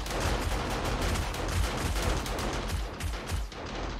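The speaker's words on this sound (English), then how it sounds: "the house turret. This one here is shooting." A house-mounted turret in the survival game 7 Days to Die fires a dense, continuous stream of rapid gunshots, loud and unbroken throughout.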